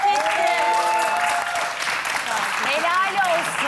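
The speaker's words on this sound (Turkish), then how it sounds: "Bence kocaman bir alkış hak etti." A studio audience applauds on a Turkish TV cooking-competition show during a wedding celebration, steady clapping held at a constant level for several seconds under a lively voice and tonal sounds.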